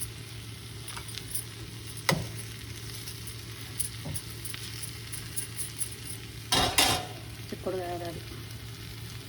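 Flat broad beans (chikkudu) fry in a pan as coriander goes in before serving: a steady low sizzle runs throughout, broken by sharp spatula scrapes and clinks as the curry is stirred, close and clear.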